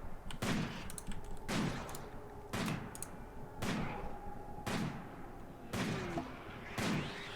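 Gunfire in the Rimworld colony game, with sharp regular shots about once per second, each a crisp crack with a short tail, repeating steadily over a low background hum.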